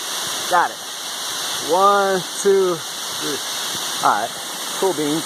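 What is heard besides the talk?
waterfall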